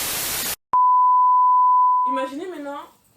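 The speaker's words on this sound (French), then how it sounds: "Tu vas mettre bip." A censor bleep in a casual French conversation, one steady pure tone lasting about a second and a half after a burst of noise and a click, then a voice speaking.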